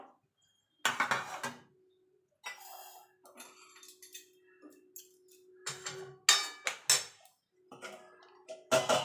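Boiled chicken is lifted out of a cooking pot on a home stove, bringing a few close clinks and scrapes of utensil against pot in short bursts, with a steady faint hum between them.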